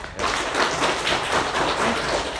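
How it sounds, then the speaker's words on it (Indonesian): Students in a classroom break into lively applause, a dense run of claps heard up close that keeps going from start to finish. "Kasih aplaus dong"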